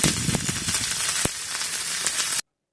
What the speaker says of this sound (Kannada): ಈ ಸೌತೆಕಾಯಿ ಹೋಳು ಅದನ್ನೆಲ್ಲ ಇದರಲ್ಲಿ ಈ ದೋಸೆ ಕಾವಲಿಯಲ್ಲಿ ಇಟ್ಕೊಳ್ಬೇಕು